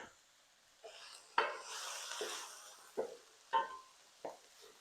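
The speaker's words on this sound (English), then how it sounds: "And let me stir it real quick" Spoon stirring diced red and green jalapeno peppers with seeds in a pot, several close scraping strokes with a soft sizzle between them.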